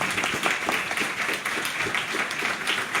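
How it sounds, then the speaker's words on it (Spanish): An audience at an academic colloquium applauds after a talk, a lively, dense clatter of many people clapping, fairly close and steady for the whole stretch. "Un aplauso, por favor."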